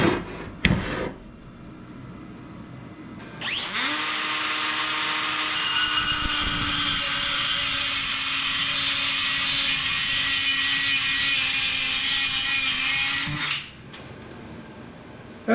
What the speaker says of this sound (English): That's the nice thing about this DeWalt 3-inch cutoff tool, is you can make it go forward or reverse to keep the sparks out of your